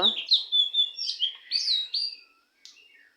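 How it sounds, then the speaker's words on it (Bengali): A bird chirps and trills rapidly at dawn for about two seconds, close and clear, followed by a brief pause and one fainter chirp. "শোনেন পাখির কিচিমিচির শব্দ।"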